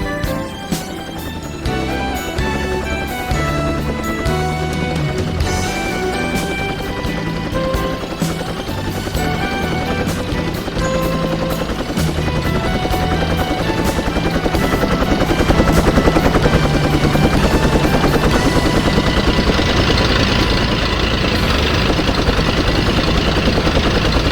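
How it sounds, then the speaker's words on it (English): A helicopter flies close and loud with a steady thudding rotor chop and engine drone that holds throughout and swells slightly midway. "the helicopter is side by side with Tiger Moth"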